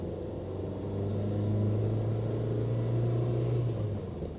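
A 1972 Renault 12 Break estate car drives with a steady, close engine drone and low rumble that swells slightly mid-run as it pulls through the gears, with no talking.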